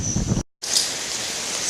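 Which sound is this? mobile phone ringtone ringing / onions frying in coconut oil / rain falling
rain falling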